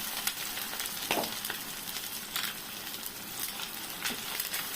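Rohu fish koftas frying in hot oil, a steady crackling sizzle close by with intermittent sharper pops and spatters throughout.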